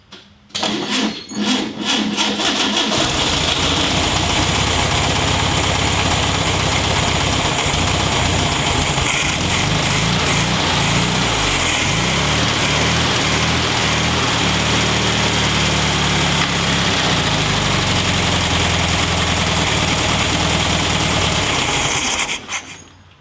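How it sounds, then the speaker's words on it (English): A 1965 VW Beetle air-cooled engine, long unstarted and fed fuel through a borrowed carburetor, cranks, catches and then runs at a rough, loud idle, the revs wavering up and down before it cuts off. "it's out of gas, but it'll run on Tim's carb."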